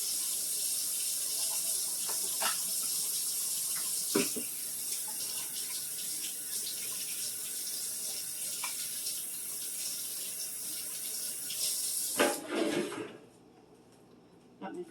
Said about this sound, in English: Always wash your hands before you start working in the kitchen.